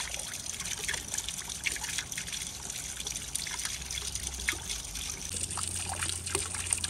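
Running water trickles quietly in a garden wildlife pond edged with stones, a soft continuous splashing and dribbling, faint and close, with a low hum entering near the end.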